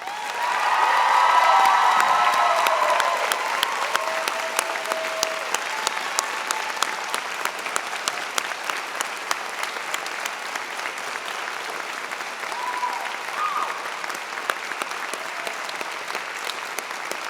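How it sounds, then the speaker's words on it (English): Graduates at a spring convocation ceremony give a round of applause. The dense clapping peaks early, then thins into a long, steady patter from a large crowd, with faint cheering mixed in. "Graduates, a round of applause, please."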